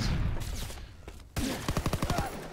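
Shotgun loaded with incendiary rounds firing in the Call of Duty WW2 video game: a loud rapid run of sharp blasts near the end, after quieter game ambience and a brief lull.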